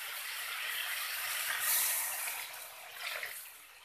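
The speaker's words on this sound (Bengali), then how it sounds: "আমি এর মধ্যে এবারে জল দিয়ে দেবো" Water poured into a pan of cauliflower curry that has been cooked down with spices, a steady broadband splash and hiss that swells around the middle and again near the end, fairly close with no talk.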